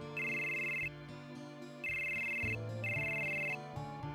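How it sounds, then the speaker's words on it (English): Cell phone ringtone from Final Fantasy VII, a loud electronic ring repeating three times in bursts over a short melodic game music line. "Loud every time the phone goes off."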